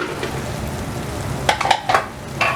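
Small red chilies hit hot oil in a pan of Punjabi restaurant-style chana dal fry, giving a close, steady sizzle broken by a few louder stirring scrapes and clinks near the end.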